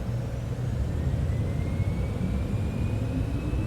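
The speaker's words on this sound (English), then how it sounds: "So we're going to go into max here to see how quickly this aircraft picks up speed." Citation X business jet engines at maximum takeoff power in MSFS 2024, a steady loud roar with a broad low rumble and a faint rising whine, constant throughout.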